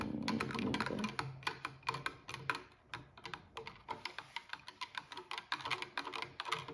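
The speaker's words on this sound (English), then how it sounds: "So I got my whisk here, as you can see, and we will just keep on stirring." A whisk stirs a jelly mixture in a bowl, producing rapid close clicking and tapping strokes in an uneven rhythm that soften and grow sparser as the stirring goes on.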